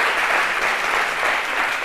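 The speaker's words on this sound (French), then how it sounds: "Allez, des applaudissements pour nous là" A live studio audience applauds in a dense, even burst of clapping that holds steady and fairly loud throughout.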